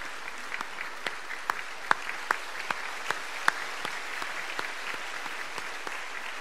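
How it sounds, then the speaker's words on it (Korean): Church congregation applauding to welcome a visiting guest, a soft continuous patter of many hands in a large room, with a few sharper, closer claps standing out above the steady wash. "우리 박수로 환영하도록 하겠습니다"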